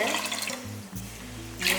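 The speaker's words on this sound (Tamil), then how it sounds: "மூணே கால் டம்ளர் அளவுக்கு தண்ணி எடுத்துக்கலாம்" Water being poured from a tumbler while cooking pongal, a short splashing gush with a brief pause, close up and fairly loud.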